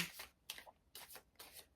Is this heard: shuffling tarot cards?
yes